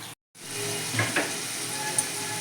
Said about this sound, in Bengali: এবার আমি ঢাকা দিয়ে লো ফ্লেমে আলুগুলোকে ভালো করে ভেজে নেব